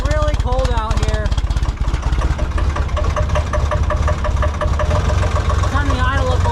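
A cold-started stump grinder engine idles steadily and close by, its rough mid-pitched chug running throughout with a few brief whines rising over it, and voices speak now and then beneath the engine.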